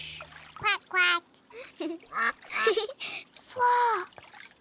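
Cartoon duck quacks from a children's animated show, a few short nasal calls in a brief exchange, mixed among clear childlike voices talking close by.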